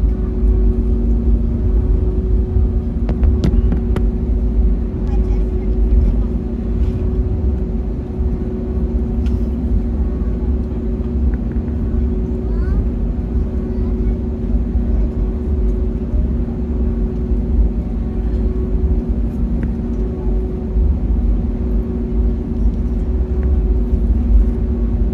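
Engines of a Spirit Airlines Airbus A320neo roar as a low, steady drone with a faint hum, heard close and continuous from inside the cabin with no talking.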